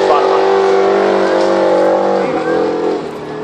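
A Formula Offroad car, the Terminator II, runs its engine hard at a Bålsta off-road event, giving a loud, sustained, steady drone with a brief dip near the end. Talk is heard over it.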